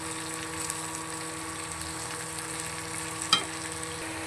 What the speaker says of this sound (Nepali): यता चाहिँ अचार पाक्दैछ गोलभेडाको अचार